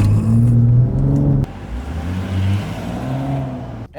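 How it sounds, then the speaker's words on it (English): 2016 BMW M135i accelerating hard from inside the cabin: a loud engine note climbing in pitch through the revs, a brief break like a gear change, then pulling up again. "And we're off on the 2016 BMW M135i. Just gonna give it a quick pull right here."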